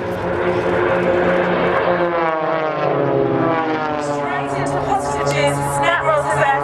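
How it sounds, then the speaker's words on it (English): Propeller aircraft of the Blades aerobatic team perform a crossfire break at an air show, giving a loud, continuous droning engine roar whose pitch sweeps as they pass, with a voice talking over it. "Snap rolls his aircraft back down towards the airfield."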